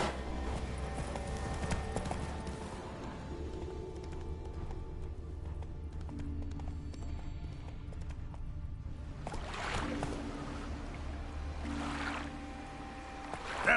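Roach the horse trotting in The Witcher 3 game, a steady clip-clop of hooves over a low ambient wash, with brief louder gusts near the end; no talking.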